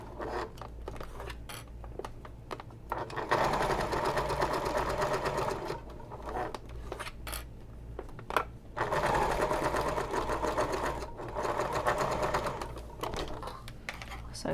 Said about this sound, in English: So I've sewed up one edge, and now I'm going to sew along the other edge.